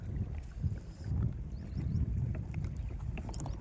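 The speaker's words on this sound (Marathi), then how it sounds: "आता वारं सुटलेलं आहे मित्रांनो, बघू शकता. हे बघा वारं" Wind blows steadily across the sea around a fishing boat during net hauling, a continuous low rumble of gusts buffeting the microphone, with faint water noise and no talking.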